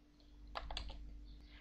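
A short burst of quick keystrokes on a computer keyboard entering commands in a text game, a few close clicks clustered together over a quiet low hum.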